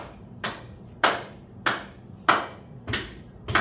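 A teacher in a classroom claps their hands six times at a slow, steady pace, each clap sharp and close with a short ring, and no talking in between.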